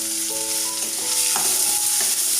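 Chopped onion and green chillies frying in a pan for a paneer dish, a continuous loud sizzle with a few stirring scrapes and tonal clinks of the utensil against the pan.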